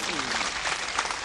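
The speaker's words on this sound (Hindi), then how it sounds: "तालियां बजा दीजिए।" An audience claps steadily at an Urdu poetry mushaira, a short burst of dense applause with voices mixed in.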